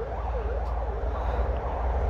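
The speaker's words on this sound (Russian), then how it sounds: "Вот эти вот сирены воют. Там скорая поехала, там полиция поехала" Ambulance and police sirens wailing through busy city traffic in Krasnodar, a loud rising-and-falling wail repeating steadily over the low rumble of vehicles, with no speech.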